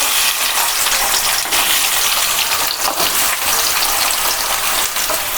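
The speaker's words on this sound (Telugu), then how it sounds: "ఆయిల్ బాగా గేడైన తర్వాత ముందుగా మనం కట్ చేసి పెట్టుకున్న ఉల్లిపాయలు వేసుకోవాలి" Chopped onions hitting hot oil in a pan for egg bhurji, giving a loud, steady, close sizzle and crackle with a hissing wash that barely varies across a few seconds.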